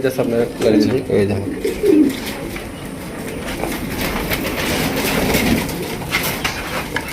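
Rajgolla pigeons coo in soft, low, throaty bursts near the start amid a busy market din of rumbling background noise, with people talking over it.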